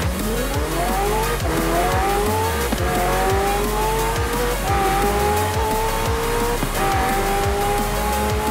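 An Aston Martin Vulcan race car in the Forza Horizon 4 video game roars through repeated gear shifts at high revs, with its engine pitch rising and falling over loud, sustained tire squeal and skidding throughout.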